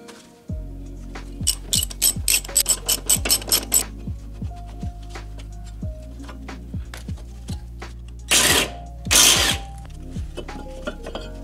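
A hand ratchet clicks in quick bursts of rapid pawl ticks while removing a brake caliper from a Mazda Miata, with close, sharp clicking, pauses between strokes and a couple of scraping rubs near the end.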